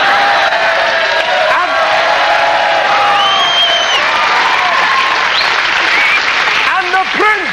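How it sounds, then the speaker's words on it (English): A 1986 television studio audience claps and cheers loudly and continuously, with whoops and shouts rising over the applause, while a voice speaks over the noise. "The audience shall applaud spontaneously,"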